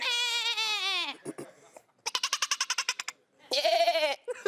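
A person imitates a goat's bleat on a television show, giving a long wavering cry followed by a rapid stuttering series of short bleats and a final quavering call, close and loud.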